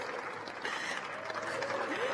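Applause from an audience at a U.S. National Space Council meeting honouring Space Force Guardians: a brief, moderately distant patter of clapping that swells slightly toward the end.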